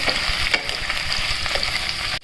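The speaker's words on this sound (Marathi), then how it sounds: "लाल मिरची हे सर्व मिश्रण व्यवस्थित हलवून घ्यायचं व्यवस्थित फ्राय करून घ्यायचं" A spice mixture with red chilli fries in a pan with a steady, close sizzle, while a spoon stirs it with soft scraping strokes throughout; no one speaks and the sizzle cuts off abruptly at the end.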